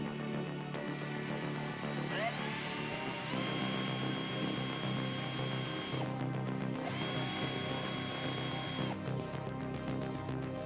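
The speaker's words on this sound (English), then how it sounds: "Now I drill a through hole." A power drill bores a through hole for a PC open-frame bracket, a steady high-pitched whine that holds throughout, rising in pitch once and briefly dipping twice as the bit works through the material, with no talking.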